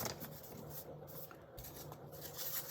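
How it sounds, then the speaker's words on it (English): A knife cuts out the middle pages of a book, producing continuous close papery scraping and rustling at a steady moderate level without any speech. "Use your knife and cut out everything in the middle of the book"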